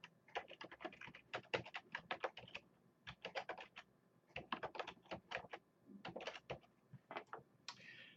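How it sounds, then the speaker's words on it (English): Fingers type on a computer keyboard in bursts of quick, crisp key clicks with short pauses between runs, quiet and close with no talking. "I'll choose to create a tile, and so I type in the address of the website."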